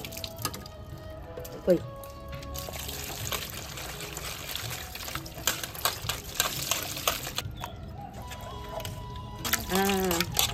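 Goat tripe (boti) being washed by hand in water, splashing, pouring and dripping with wet squelches at varied intervals, while a person talks.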